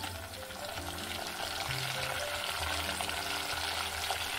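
Mustard seeds and curry leaves frying in hot oil for a prawn pickle, a continuous close sizzle with dense crackling and faint popping, steady throughout with no talk.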